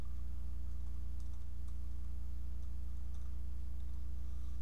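Computer keys are tapped in a light, scattered patter while C code is typed, the faint clicks sitting over a loud, steady low hum that runs throughout.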